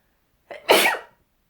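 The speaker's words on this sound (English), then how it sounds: "Ooh, I feel like I have to sneeze." A single sharp sneeze from a nearby woman, a short breathy intake followed by a loud burst, with quiet around it.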